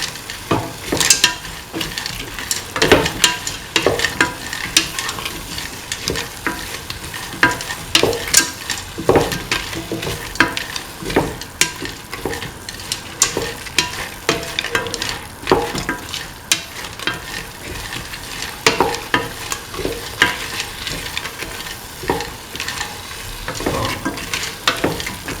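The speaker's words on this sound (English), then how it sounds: "Keep on mixing." Green peas and cauliflower stew in coconut milk is stirred in a pan, a spoon scraping and clacking in a steady rhythm over a continuous sizzle, close and clear.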